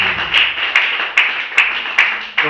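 A church congregation claps for Jesus in a rhythmic beat, six evenly spaced, loud, close claps roughly every 0.4 seconds over a steady bright hiss of cheering.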